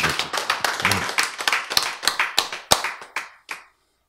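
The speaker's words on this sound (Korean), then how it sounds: "박수." Audience applause during a church lecture, a burst of many hands clapping close by that thins out and stops after about three and a half seconds.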